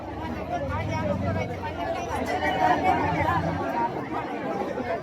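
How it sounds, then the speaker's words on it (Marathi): Dense crowd chatter from a large throng waiting in a temple darshan queue, steady overlapping voices and hubbub filling the whole stretch at close range. "गर्दी खूप आहे. दर्शन होणं कठीण वाटतंय मला."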